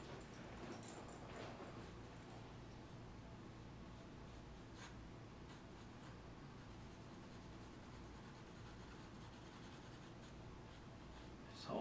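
A pencil sketching a hand on paper makes a faint, continuous scratchy scraping with light strokes, close and quiet, with no voices.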